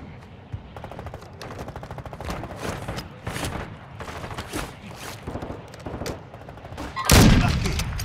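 Rapid sniper and automatic gunfire crack through a firefight in the online shooter Warzone 2 DMZ, with repeated close shots over several seconds and a louder, heavier blast near the end.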